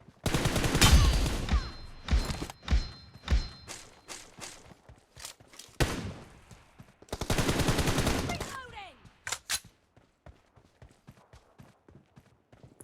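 Repeated gunfire from a pistol and an M4 in a first-person shooter game: sharp cracks, plus a long dense volley around the middle. Footstep-like taps fill the gaps, with no voices.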